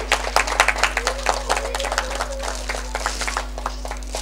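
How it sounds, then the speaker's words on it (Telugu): Scattered hand clapping from a small audience at a Sankranti rangoli contest prize-giving in Hayathnagar, uneven and fairly quiet, with a steady electrical hum underneath. "క్లాప్స్ కొట్టండి."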